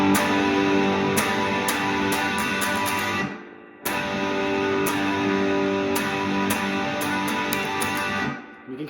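Electric guitar playing the higher notes of a bar chord in the part, a bright picked phrase played twice with a short gap between, mildly overdriven and alone.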